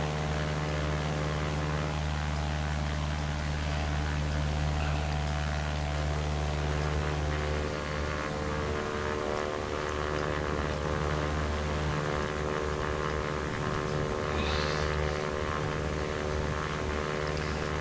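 Steady, loud droning of a propeller aircraft engine in the X-Plane flight simulator, a default plane flown under visual flight rules, holding a constant harmonic hum throughout with no voices.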